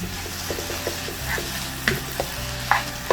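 Ground meat and cooked onion fry in a pan, sizzling steadily while a spoon stirs and scrapes in a repeated rhythm of close, sharp clinks. No voices are heard.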